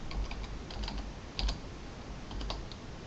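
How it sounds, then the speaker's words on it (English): Quick, light tapping of keys on a computer keyboard while entering data into MATLAB, irregular bursts of clicks close by and fairly quiet, with no voices. "then we're going to type in the data with the X coordinate first"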